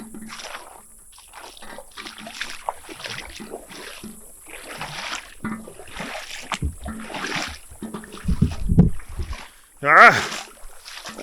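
Footsteps wading through a shallow outback creek in the hot Northern Territory, soft intermittent swishes and splashes building to a louder splash near the end, with a person talking and exclaiming over the water sounds.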